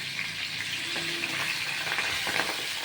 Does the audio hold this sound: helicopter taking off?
no